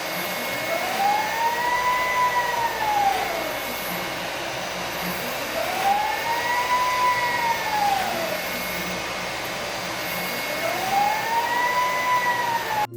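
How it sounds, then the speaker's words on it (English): A large VEHO 1000 PRO 3D printer runs at high speed, its steady whirring drone rising and falling in long repeating sweeps like motors accelerating and slowing, with no talk. "Printing in progress. Let's experience the actual printing speed."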